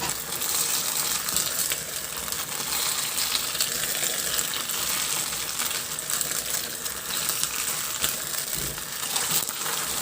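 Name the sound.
stirring fried pork in sweet and sour sauce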